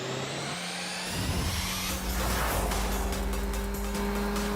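A car drives along a road at night, its engine a steady close drone that swells and builds as it gathers speed, with no talking over it.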